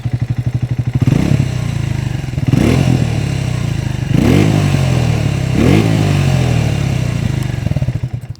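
A Triumph Speed T4 motorcycle engine and exhaust run loud and close with a steady low thump, rising in four revving bursts with a clattering edge between them.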